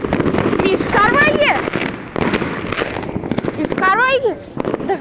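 Firecrackers pop and crackle in rapid, loud bursts on New Year's Day, with whistling rising tones cutting through and excited voices talking and shouting over the blasts.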